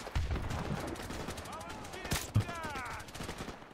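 Gunfire in Call of Duty 4: Modern Warfare Remastered, a few sharp shots and short bursts scattered over steady game ambience, with someone talking now and then.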